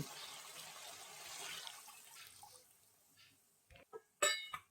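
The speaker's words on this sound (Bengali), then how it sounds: "এখন আমি এখানে পরিমাণ মতো জল দিয়ে দিচ্ছি।" Water is poured into a pot of cooked spices for a Bengali doi potol curry, a soft splashing pour fading away, followed by a few close clinks and knocks at the end.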